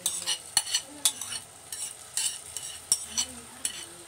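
Egyptian rice being stirred and sautéed in tomato sauce in a pot: repeated metal spoon clinks and scrapes in an irregular rhythm over a soft sizzle, close and fairly quiet, with no voices.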